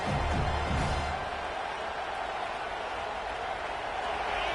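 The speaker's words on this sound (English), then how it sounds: "This crowd bringing the energy and noise early." Dense, steady roar of a large stadium crowd in a college football video game, Miami vs Penn State, continuous and fairly loud throughout with no distinct voices standing out.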